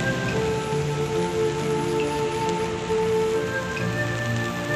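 Steady rain falls at night outside the Palacio de Memoria mansion in the Philippines, a dense continuous patter with faint droplet ticks over a low, constant hum.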